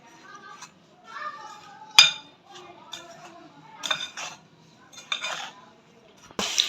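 Sesame, almonds, pistachios and raisins are stirred together in a bowl for laddoo, with scattered clinks of a spoon against the dish and scraping sounds close by, under faint background voices.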